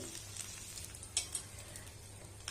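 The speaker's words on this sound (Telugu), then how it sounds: "నూనె కాగిన తర్వాత అందులో ఒక ఎండుమిర్చి వేయండి" A dried red chilli fries in a pan of hot oil, giving a soft, steady sizzle with a few faint crackles and pops, heard quietly and alone.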